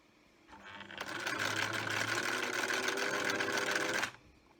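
A sewing machine stitches a seam on a fabric face mask. It runs loud and close in one steady, fast mechanical whir lasting a few seconds, then stops abruptly, with no talking.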